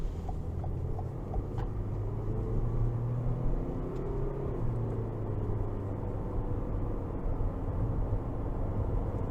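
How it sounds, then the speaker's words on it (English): Heard from inside the cabin, a 2022 Toyota Corolla Cross with a 2-liter naturally aspirated engine accelerates out of a corner, a steady droning rumble and whir that rises gently in pitch under continuous road noise. "I'll give it some throttle coming out of this corner."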